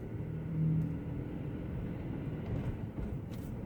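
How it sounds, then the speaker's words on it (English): Low rumble of road traffic moving past a construction zone, a steady, muffled drone of vehicles heard from inside a car, fairly faint with no talk. "there's traffic up here because there's construction"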